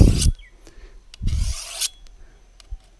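A hand file rasps along a machete blade, following the grind in two distinct strokes followed by lighter scrapes and taps, close and crisp with no talking.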